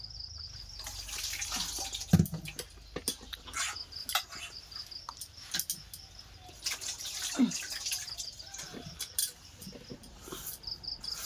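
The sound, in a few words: washing something under running water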